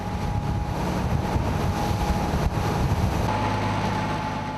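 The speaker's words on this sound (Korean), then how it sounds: "매서운 바람과 함께 높은 파도가 들이친다" Strong wind buffets the microphone over the steady rush of waves and a boat engine's low rumble, loud and continuous throughout.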